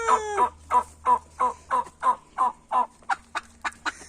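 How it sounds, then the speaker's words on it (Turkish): Poultry call in a rapid, rhythmic series of short clucking bursts, about three per second, close and clear with no talking. "Hadi gel tavuklara bak."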